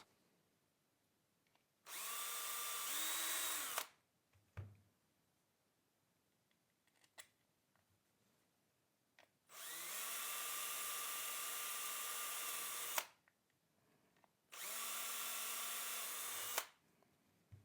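A power drill driving screws whirs in three sustained bursts of a few seconds each, separated by quiet pauses with small clicks and handling noises.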